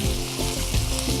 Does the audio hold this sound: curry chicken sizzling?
yes